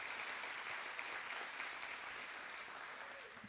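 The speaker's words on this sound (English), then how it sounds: "So let's give the Pie Center folks a round of applause" An event audience at the Pie Center, during a grant competition night, applauds with dense, steady clapping that holds fairly level throughout before easing slightly at the end.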